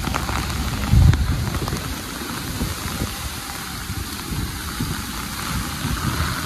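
Heavy rain falls on a New York street, a steady broad hiss with a brief low thump near the start, heard from a walker's position outdoors.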